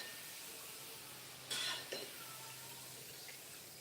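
French fries frying in a pan of oil, a faint steady sizzle with a brief louder clatter of utensils or pan partway through, quiet and close.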